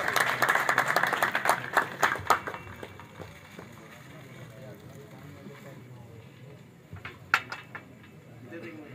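An audience claps in a loud burst at a pigeon fanciers' function in Faisalabad, fading into scattered claps within a few seconds as an announcer's amplified voice continues over a noisy hall, with a single sharp clap late on.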